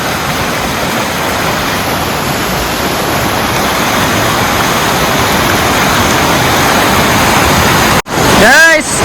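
Rushing water of a forest stream in Kerala, broadband and steady, flowing loudly and continuously; near the end a brief break gives way to a few sweeping tonal chirps over the water.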